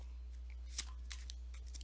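A tarot deck is shuffled in a quiet room, giving soft, brief riffling and card flicks, faint and close over a steady low electrical hum, with no talk.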